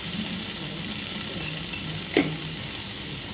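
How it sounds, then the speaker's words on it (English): Capsicum and onion fry in a kadai with steady sizzling, a constant hiss with a brief clink of a utensil partway through. "add this capsicum in the kadai and the piyaj also"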